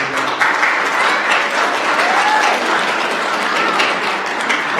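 An audience at a high school spring concert gives families a warm round of applause, steady, dense clapping throughout at an even level.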